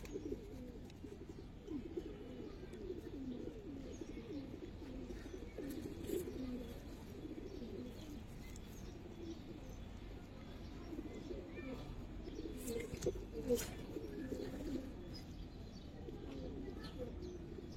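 Giribaz and silver pigeons coo in a steady, low murmuring chorus with occasional chirps, a continuous flock sound at moderate level with faint talk in the background.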